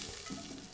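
Garlic sizzling and being stirred in a pot with chicken for Palestinian maqlouba, a brief close burst of frying hiss with stirring scrapes.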